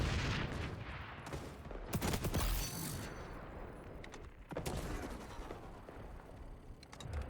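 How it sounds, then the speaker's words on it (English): Rapid bursts of AK rifle fire in the video game XDefiant, with several heavy volleys and sharp individual shots over a busy, noisy game backdrop. "Man, the AK hits really hard,"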